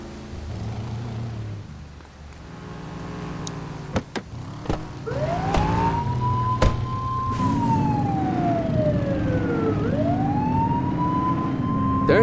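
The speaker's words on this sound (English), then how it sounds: "Turn that siren off." A loud police car siren from the video game The Precinct wails, rising and falling in long sweeps over a steady engine rumble, close and continuous with a few sharp knocks.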